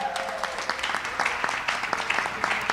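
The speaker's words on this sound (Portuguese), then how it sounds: "Salva de palmas para ela" Modest applause from a church youth audience, a patter of many hands clapping at moderate, fairly distant level, with a voice speaking over it near the start.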